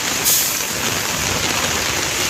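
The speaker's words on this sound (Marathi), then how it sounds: "पाऊस बघा किती जोरात पडतो आहे" Heavy monsoon rain pours at Marine Drive in Mumbai as a dense, constant roaring hiss that stays loud and unbroken throughout, with no talking.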